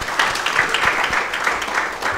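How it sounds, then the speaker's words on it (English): Audience applause at a university leadership dialogue, a steady patter of many hands clapping at moderate distance without talk. "Can we give him a good round of applause?"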